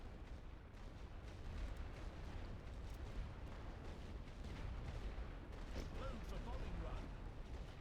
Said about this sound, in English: Load light suppression shells. Let's go and target with artillery.